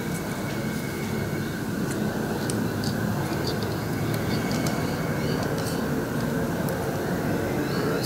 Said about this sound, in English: It's funny hearing aircraft flying overhead again